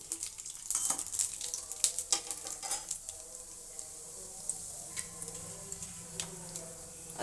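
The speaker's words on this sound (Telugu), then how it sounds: "పోపు గింజలు కూడా వేసేసుకొని బాగా వేగించుకోవాలి." Peanuts and tempering seeds frying in a pan for flax-seed (avisa kayalu) fry: a steady soft sizzle broken by sharp ticking pops and the scrape of stirring, close and fairly quiet, with no talking.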